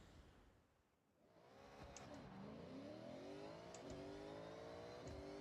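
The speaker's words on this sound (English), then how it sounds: "Watch how fast this car goes." A Dodge Hellcat in Forza Horizon 6 revs up and accelerates hard, rising engine pitch climbing through gear shifts after a brief lull, loud and continuous with no talk.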